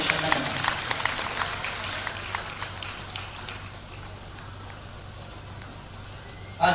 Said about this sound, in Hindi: जोरदार ताली दें इस बड़ी गवाही।